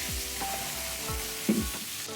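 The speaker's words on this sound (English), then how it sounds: "When the peppers and onions are squashed, add diced tomatoes. Give it a stir." Diced tomatoes stirred into peppers and onions frying over a high flame for karahi paneer, giving a steady close sizzle with a few soft scraping strokes of a spoon in the pan.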